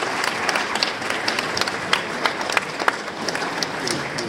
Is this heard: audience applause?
yes